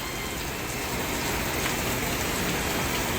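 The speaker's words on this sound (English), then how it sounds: "rain on the green grass, rain on the black road, rain on the red car" Steady rain pours down outdoors, a dense, continuous hiss of drops pattering on grass, road and cars, even and unbroken throughout with no voices.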